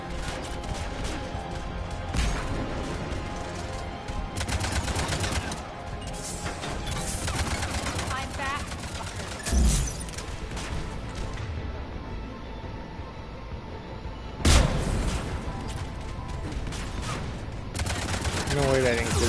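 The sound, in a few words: gunfire in the video game Mass Effect 3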